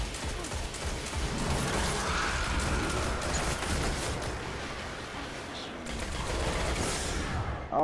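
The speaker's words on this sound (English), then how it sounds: "Oh, that's because that's that scout rifle." Scout rifle gunfire in an Xbox One shooter game, a continuous dense rattle of shots and impacts at steady loudness lasting several seconds.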